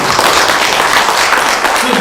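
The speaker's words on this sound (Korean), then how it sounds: "박수 한번 해봤어요" A church congregation breaks into clapping during a sermon, loud and dense, with a voice faintly mixed in under the sound.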